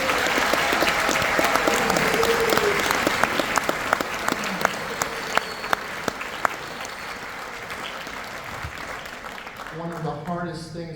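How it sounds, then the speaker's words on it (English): Audience applause fills the hall at an honor band concert, a dense, sustained clapping that stays loud for about nine seconds before thinning out, with a few sharper individual claps poking through and a brief tonal sound near the end. "give them a round of applause"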